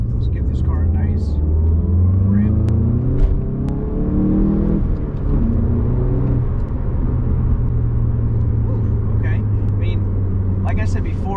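A Volkswagen Golf MK7 GTI accelerates hard from inside the cabin, its engine note rising and stepping through gear changes in loud, close rumbling sweeps, with a voice speaking briefly over it.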